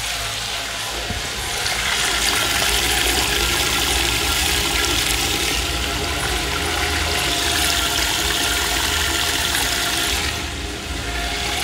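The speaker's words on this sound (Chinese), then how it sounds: "这个水龙头居然自己打开了。" A tap in a men's public restroom at Toyama Park, Tokyo, runs on its own, giving a steady, loud, hissing gush of water that continues throughout.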